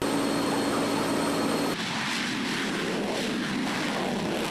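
An F/A-18 Hornet all-weather fighter jet flies by as a loud, steady roar of broadband jet noise. The roar shifts in tone partway through and holds, with no voices.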